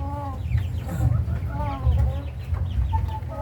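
Rhode Island Black Mahogany chickens cluck and call repeatedly at close range over a steady low farm background, with several overlapping birds.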